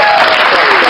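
Loud, dense applause from a church congregation during a Christian sermon, brief and close, with a voice carrying over it.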